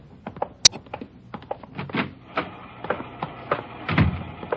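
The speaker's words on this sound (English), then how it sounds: "She's running all the cards on previous shooting through the IBM machine." An IBM punch card machine runs a stack of cards in an office, giving a close, busy clatter of rapid mechanical ticks and thunks with one sharp click near the start, steady throughout with no talk.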